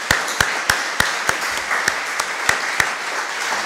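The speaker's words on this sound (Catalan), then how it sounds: "Un aplaudiment, no?" An audience applauds at a talk about the first independence referendums, with clear, rhythmic claps sounding close and fairly loud for a few seconds.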